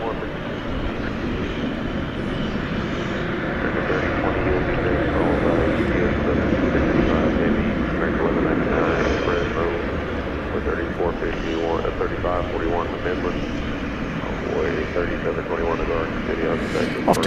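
An airliner taking off at DFW Airport at night, a broad, sustained engine roar building and holding through the stretch, with people talking over it.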